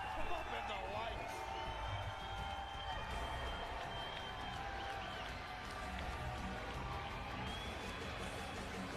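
A live wrestling crowd at TNA Victory Road 2009 roars in a steady, dense wash of cheering and applause for Team 3D, loud and continuous, with voices mixed into the noise.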